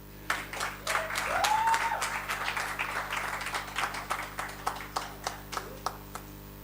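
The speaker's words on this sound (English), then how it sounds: "A round of applause." Guests at a courtesy visit by the US Consul-General in Mahikeng give a round of applause, a soft swell of clapping that thins out into a few scattered, separate claps near the end.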